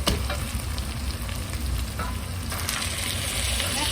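Marinated chicken with bay leaves fries in a pan, a loud, dense and continuous sizzle heard close up with faint stirring noises and no voices.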